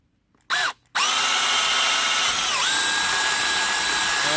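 Power drill boring a hole, opening with a short whirring burst, a brief pause, then a loud continuous high-pitched whine that holds steady for several seconds with no talking.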